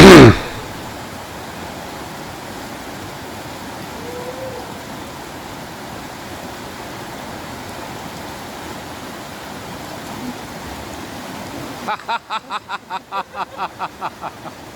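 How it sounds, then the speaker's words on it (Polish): The Elbe river runs over a stony riverbed in Czech Switzerland, a steady broadband rush of flowing water heard close and alone, broken by a brief knock at the start and a rhythmic series of soft thumps near the end. "Popatrzmy jeszcze sobie na rzekę Łabę."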